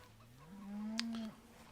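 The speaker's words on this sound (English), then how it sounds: "Here's our animated cows." A cow in the Farming Simulator 17 video game gives a single drawn-out low moo lasting under a second, clear and fairly close against a quiet background.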